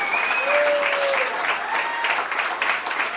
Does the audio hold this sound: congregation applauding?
yes